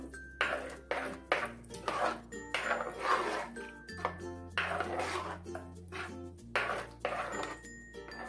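Spoon stirring payasa in a metal pot, producing repeated scraping and clinking strokes in a steady rhythm, close and fairly quiet.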